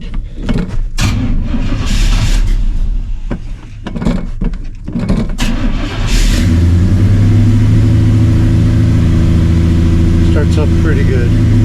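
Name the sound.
Blueprint 350 engine starting cold and running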